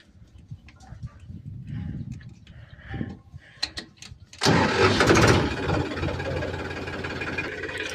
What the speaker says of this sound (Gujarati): હમણાં ટાઈગર જેમ અવાજ કાઢીએ આપણું ટ્રેક્ટર